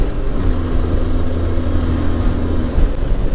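Inside a car on a country road, a steady engine drone and road rumble hold through an overtaking move past an Audi, with a sustained mid-pitched tone that holds before fading slightly near the end.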